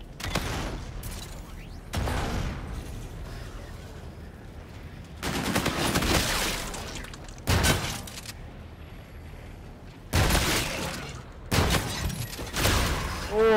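Pistol gunfire sounds in a shooter video game, coming in several loud bursts of rapid shots separated by quieter gaps filled with low background game noise.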